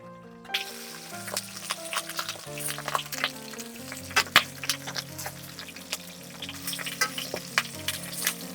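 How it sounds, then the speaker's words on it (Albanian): Food fries lightly in a pan with a steady sizzle, broken by recurring sharp clicks and taps from turning pieces, close and moderately loud, with a faint low hum underneath. "Nuk i skuq shumë, nga kaq pak nga të dy anët"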